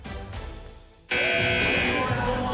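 After a second of low murmur, a loud, sustained electronic buzzer blares abruptly and holds steady for over a second at a men's college basketball game.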